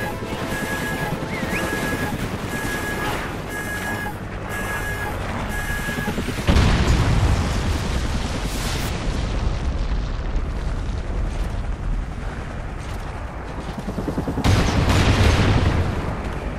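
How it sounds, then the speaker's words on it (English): Trinity rocket strikes in Call of Duty: Ghosts, with heavy booming explosions that crash in loudly after a beeping countdown, followed by rumbling debris and a second large blast near the end. "Trinity rocket inbound"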